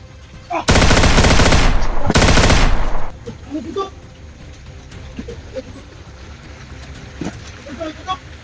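Two loud, dense bursts of rapid gunfire ring out close by, then give way to quieter outdoor noise with scattered faint voices.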